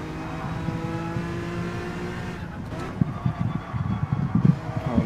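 Race car engine in Gran Turismo 7 droning at a steady high pitch, then dropping through gears with a burst of choppy, popping revs near the end.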